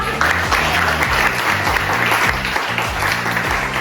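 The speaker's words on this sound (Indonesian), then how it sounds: "Tepuk tangan untuk kita semua." Classroom applause from students at a Surabaya high school, a steady dense patter of many hands clapping together at close range, with a faint low murmur of voices underneath.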